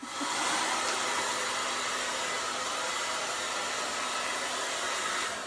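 A handheld hair dryer blows steadily while drying the top of someone's hair, a loud, continuous whooshing roar that holds at an even level throughout, with no talking.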